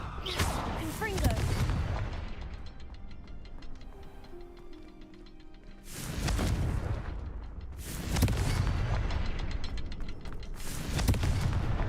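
Repeated Confringo spell blasts go off in the game Hogwarts Legacy, several loud booming explosions in bursts with decaying rumbles, separated by a quieter stretch of ticking game sounds.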